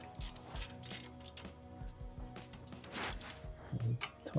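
Ratchet wrench snugging 17mm bolts during a brake replacement on a 2011 Toyota RAV4, quick bursts of close clicking ratchet strokes with faint mechanical rattles between them.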